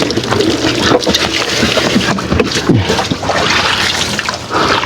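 Steady splashing and trickling water rinses a horse during a bath, close up and continuous, with faint voices and handling noises underneath.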